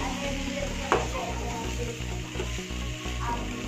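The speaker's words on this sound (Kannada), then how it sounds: "ಮಸಾಲೆ ಫ್ರೈ ಆಗ್ತಿದ್ದಂಗೆ" Masala spice mix frying in a pan, a steady sizzle holding throughout with a sharp clink near the start and light stirring scrapes, no talking.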